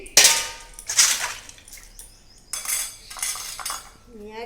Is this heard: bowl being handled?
yes